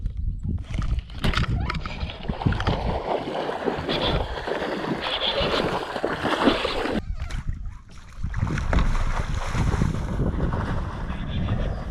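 Wind gusts across a Florida lake point around a bass-fishing boat, buffeting the microphone in loud, rough rumbles with water sloshing underneath, easing briefly before picking up again.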